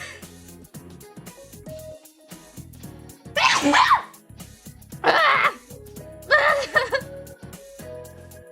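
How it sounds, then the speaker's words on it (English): Three loud, sharp sneeze-like bursts spaced a second or so apart, close up, over a quieter background of low sounds. "I have to sneeze."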